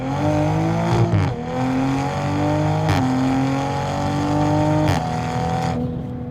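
A 490 hp full bolt-on Toyota Supra A90 with a burble tune accelerates hard and loud, its revs climbing in surges broken by about three quick gear changes, with crackles on the shifts.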